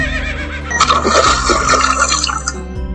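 A cartoon splash as an animated character jumps into water: a loud, close watery gush and bubbling lasting a couple of seconds, with a low rumble under it.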